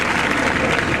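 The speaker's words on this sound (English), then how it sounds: "Crowd desperate to see the whole of this match, giving her a warm round of applause as she comes back out onto court." Warm applause from a tennis crowd as Serena Williams walks back onto court during a 2002 Rome final, steady dense clapping filling the stadium without pause.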